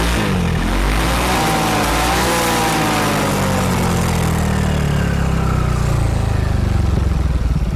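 A Yamaha XMax 300 scooter, bored up to 300cc and fitted with an aftermarket low-noise exhaust, revs hard, its loud, deep exhaust note rising and falling continuously right up close.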